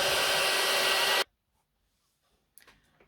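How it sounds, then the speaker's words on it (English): A heat gun blows a steady, loud rush of hot air to dry a craft piece, then cuts off abruptly, leaving near silence and a faint rustle. "I'm going to dry it again using my trusty heat gun"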